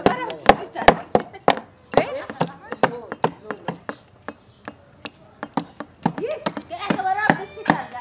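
Hammer strikes hitting a block of ice during an ice-melting challenge, a rapid series of sharp, loud cracks and knocks in irregular bursts, close by, with people talking and shouting around them.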